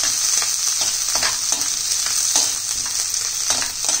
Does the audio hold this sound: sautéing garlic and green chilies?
yes